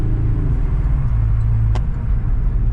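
Steady low road rumble and engine hum of a Scion FR-S cruising along, continuous and even, no voices.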